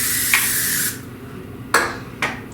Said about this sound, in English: I'm going to spray it with some non-stick spray.